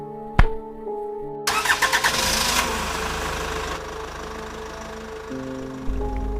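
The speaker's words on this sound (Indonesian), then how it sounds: "Ketika si Zaki ini sudah berada di atas motor dan ingin berangkat" A motorbike engine cranks and catches after a sharp click, revving in a few quick bursts before settling into a steady close idle, with a faint drone and hum in the background.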